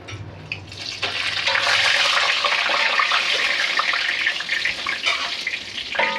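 Dried red chilies sizzle in hot oil for a Kerala-style ash gourd and mango curry, a loud, steady frying hiss that swells after a quieter start and holds throughout with small crackles, no talking.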